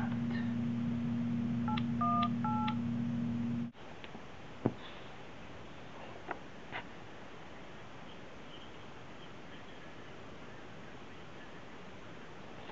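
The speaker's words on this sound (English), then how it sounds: "So now I'm calling Metro Talent." A telephone plays a quick run of dialing tones over a steady hum for a few seconds, then the line drops to quiet hiss with a few faint clicks.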